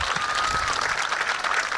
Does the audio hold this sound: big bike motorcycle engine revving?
no